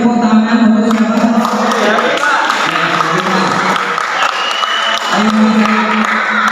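Students in a classroom lesson clap together, a dense patter of hands that runs throughout while voices talk over it.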